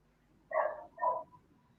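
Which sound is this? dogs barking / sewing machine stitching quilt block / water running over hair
dogs barking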